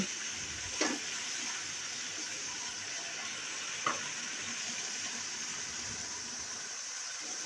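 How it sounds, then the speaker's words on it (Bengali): Chopped tomatoes sautéing in a pan for tomato pasta, a steady close sizzle and hiss throughout with two brief stirring scrapes. "টমেটোটা দেওয়ার পর খুব ভালোভাবে কষিয়ে নেব যেন কাঁচা গন্ধটা না থাকে"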